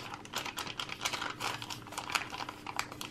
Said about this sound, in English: this is the sound of the foil